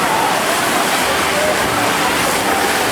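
An amusement park waterfall on an alligator boat ride at Adventureland, Long Island, gives a loud, unbroken roar of rushing, splashing water that fills the whole moment without a break.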